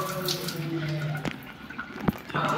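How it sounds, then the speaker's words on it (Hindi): Water poured out by hand beside a swimming pool in Gwalior, heard as steady close splashing and running water with short pauses near the middle and toward the end. "पहले पानी इधर डाल लेता हूँ"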